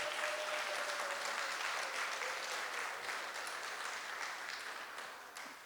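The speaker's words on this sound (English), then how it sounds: "I think you should give her a better round of applause." A crowd at a family reunion applauds, a steady wash of clapping from many hands that holds for several seconds before easing slightly.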